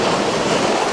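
A volcano jet driven by pump 2 churns the water of a Be Well Party Spa hot tub at full blast, producing a loud, close, steady rushing hiss.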